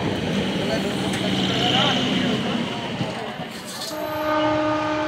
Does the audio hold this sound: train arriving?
yes